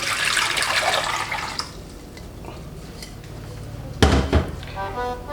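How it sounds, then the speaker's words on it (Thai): Water poured into a cooking pot in a home kitchen while making Thai pork rice porridge, opening with a steady splashing pour, then quieter clinks and a sharp metallic knock of cookware near the end. "ใส่น้ำลงไป"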